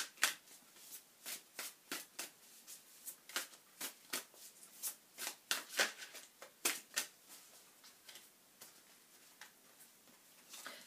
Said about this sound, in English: Let's get some additional cards and see,